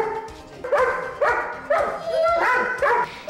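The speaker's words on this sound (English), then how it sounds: "his barking just drives us nuts" A Chihuahua barks repeatedly and close by, five or six sharp, high yappy barks in quick bursts, loud and insistent, with no talking over them.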